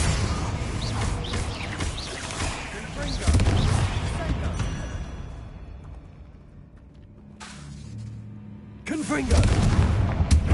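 Repeated Confringo fire-blast spell explosions in Hogwarts Legacy, bursts of booming blasts that drop into a quieter lull before another loud blast near the end, with a voice calling out at times.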